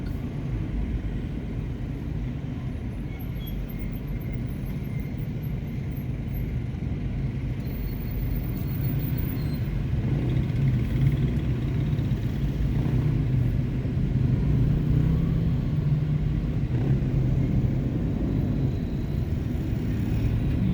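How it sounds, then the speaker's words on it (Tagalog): Heavy road traffic along Aguinaldo Highway in Imus City, a steady low rumble of car and motorcycle engines that holds constant throughout with no voices. "Grabe traffic oh."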